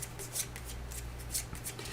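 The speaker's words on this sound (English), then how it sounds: "So now... shuffle this." A deck of cards is shuffled during a run-through of the Astro Knights card game, with quick papery riffles repeating under a steady low background hum.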